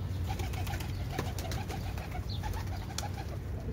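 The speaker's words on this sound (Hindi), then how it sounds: "ये इंडियन है बाजरी कबूतरी" Indian bajri pigeons cooing in soft, repeated low calls over a steady background hum, with no talking.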